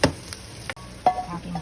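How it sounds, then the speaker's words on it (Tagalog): Chicken pieces sizzling in a hot pan for lemongrass adobong puti, a short burst of frying hiss broken by a couple of stirring clatters, close and fairly loud. "Iprito ko lang ng konti."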